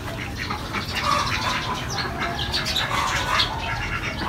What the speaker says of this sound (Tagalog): Kadami yung mga itik.